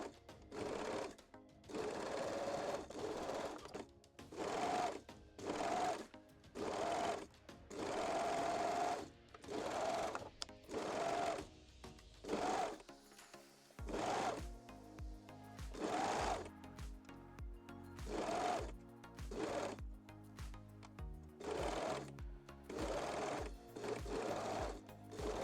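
A sewing machine stitches a bikini seam in repeated bursts of rapid mechanical whirring separated by short pauses, close and clear with no talk.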